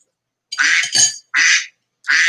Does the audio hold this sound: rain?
no